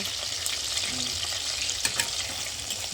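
Chicken pakoras frying in hot oil, a steady dense crackling sizzle close by with a few faint clinks, no voices.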